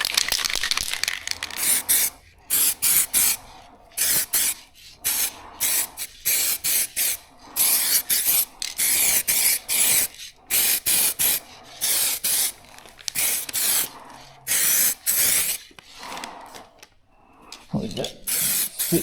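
An aerosol can hisses in repeated close, loud bursts of spray as a coat of paint goes onto a drag bike part, with short pauses and the rattle of the can between passes.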